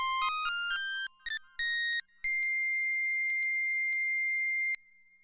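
Roland Alpha Juno synth playing a bright sawtooth wave with the filter fully open, a few short high notes followed by one long sustained high tone, clean and alone.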